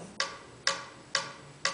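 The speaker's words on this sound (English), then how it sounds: "What is that mysterious ticking noise?" A mysterious ticking noise from a student stage performance of the Potter Puppet Pals skit: four loud, sharp ticks spaced evenly about half a second apart, each with a brief ringing decay, heard alone.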